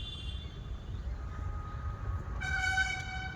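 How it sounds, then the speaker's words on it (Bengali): A train nears a bridge by a riverside fishing spot under a low, continuous rumble, then its horn blasts loudly and steadily for the last second. "ওই যে ব্রিজ, এখান দিয়ে যাবে এখন ট্রেন।"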